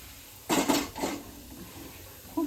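A bowl of batter mixed with Eno and water is stirred, producing a few close clinks and scrapes of a utensil against the bowl in short bursts, then a brief knock at the end.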